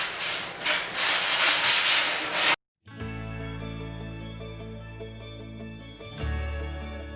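Wooden cat wall perches are sanded by hand, a loud rough rubbing scratch in quick back-and-forth strokes for a couple of seconds, then it stops abruptly and quiet humming tones follow.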